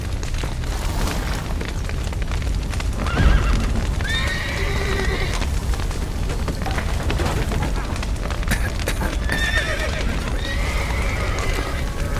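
Several horses whinny and neigh in The Witcher 3 over a steady rumbling background with hoofbeats and a brief boom, loud and busy like a battle scene.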